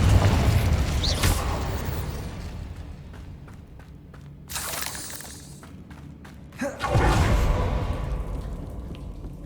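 Explosive Confringo spell blasts in the Hogwarts Legacy game, with sharp shattering bursts near the start, a whooshing hit around the middle and a loud booming impact later, over a steady rumbling game backdrop.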